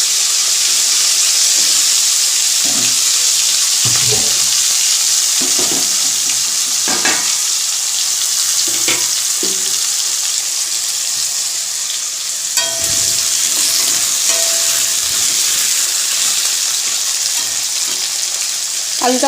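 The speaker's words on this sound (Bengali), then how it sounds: "এই তেলের মধ্যে আমি দিয়ে দেবো আলুগুলো" Salted potatoes frying in hot oil with spices: a loud continuous sizzle with occasional stirring knocks and clatter, and a brief surge in the hiss partway through.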